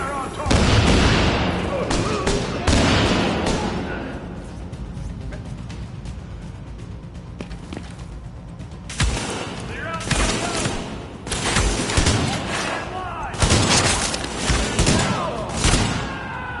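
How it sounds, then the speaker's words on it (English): Shooter video game gunfire: loud bursts of rapid shots and heavy booms in clusters, with quieter gaps between volleys and voices calling out over the action. "Fire on target!"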